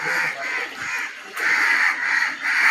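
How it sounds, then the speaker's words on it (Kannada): Crows caw loudly and close by in repeated harsh calls, several overlapping bursts with brief dips between them and no talking. "ಅದಕ್ಕೆ ಕಾಗೆ ಎಲ್ಲ ಕಾವ್ ಕಾವ್ ಅಂತ ಕೂಗ್ತಾ ಇದ್ದೇವೆ"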